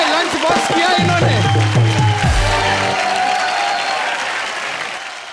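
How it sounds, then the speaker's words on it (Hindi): Studio audience applause on a Hindi comedy show during a food guessing game, with a strong musical stinger and voices over the clapping at the start, then the applause carries on alone and tapers slightly. "ये जोरदार तालियां"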